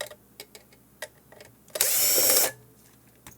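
Small screws being driven out of the side of a ClearCom V-Series intercom panel by a power screwdriver: a single close, steady whir of under a second, preceded by a few faint clicks and taps of handling.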